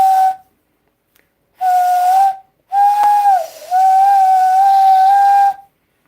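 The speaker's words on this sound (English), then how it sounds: "now I have a working whistle" A homemade wooden whistle turned on a lathe gives three blasts: a short one, a slightly longer one, then a long sustained toot. Each is a clear, steady, breathy tone with no talking.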